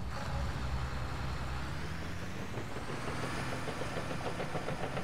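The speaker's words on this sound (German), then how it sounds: "Motor starten." Vehicle engine starting in Farming Simulator 2019 for forestry work, a rumbling crank that settles into a steady low idle with faint rhythmic knocking, loud and continuous.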